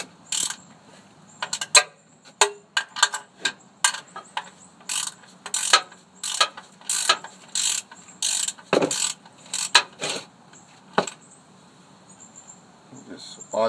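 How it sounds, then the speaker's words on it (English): A ratchet with a 14 mm socket clicks in short rapid bursts while loosening a car's oil drain plug, sharp metallic pawl ticks repeating near and clear with brief pauses between strokes. "I got the 14 millimeter, and I'm about to just pretty much loosen the drain plug"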